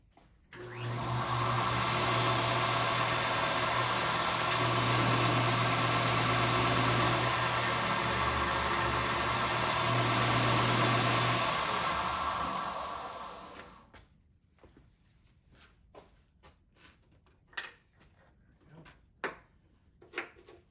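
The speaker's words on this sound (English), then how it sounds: "I'm just going to take that and nip this off with the sander." A power sander cuts metal for a door hinge on a 1949 Ford F1 truck, whining loudly and steadily for about thirteen seconds before spinning down. Scattered clicks and taps of handling follow.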